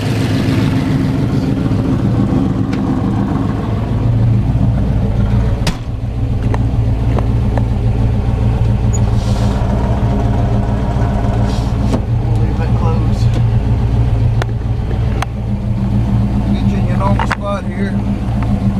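A car engine idles with a steady low rumble, then keeps running as the vehicle drives, with occasional knocks and rattles over the drone.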